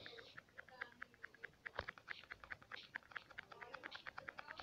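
Quiet, rapid clicking of fingers typing on a computer keyboard, with a steady run of individual keystrokes in an irregular rhythm.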